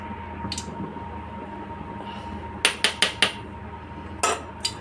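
Spoon scraping and knocking against a pot while stirring vegetarian khichuri with ghee, a few sharp metallic clinks in a quick cluster then two more, over a low steady background hum.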